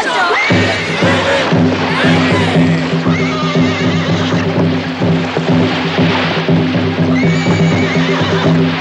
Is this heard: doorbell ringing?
no